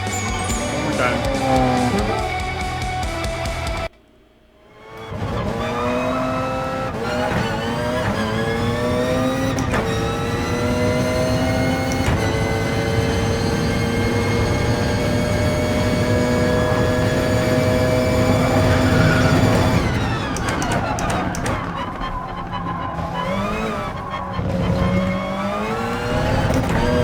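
High-revving race car engine in the Gran Turismo Sport video game, loud and continuous with rising and falling pitch through gear shifts, a brief dip in the middle, then more revving toward the end.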